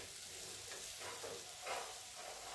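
Chopped tomato being gently stirred into mixed vegetable zunka in a pan: a soft, continuous sizzle with faint scraping swirls of a spoon, quiet and close.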